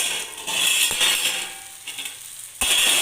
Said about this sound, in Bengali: এটা ঢাকাটা চাপা দিয়ে দিলাম